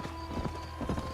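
Horse hooves clip-clop in a Red Dead Redemption game scene, a few uneven steps landing at close range over low background hum, with no talking.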